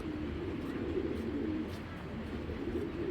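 Pigeons coo in a steady, low, murmuring drone that runs unbroken for the whole stretch, close and moderately loud with no talking.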